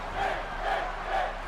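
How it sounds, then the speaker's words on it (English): An arena crowd in the WWE 2K17 wrestling game roars and chants in sustained, swelling waves, a steady loud wash of cheering with rhythmic rises and no clear speech. "Fans cheering on Finn Balor."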